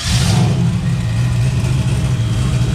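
A 5.3 LS V8 runs hard on a dyno, a loud, close, steady engine roar with a deep low rumble throughout and no speech.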